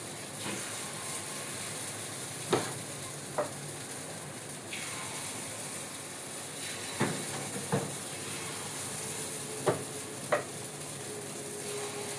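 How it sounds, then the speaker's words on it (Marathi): Mixed lentil and rice appe batter sizzles in an appe pan, a steady fine hiss with a few sharp clicks and taps of a utensil against the pan, no talking. "आता आपलं आप्पे पात्रात आप्पे सोडूया आपण."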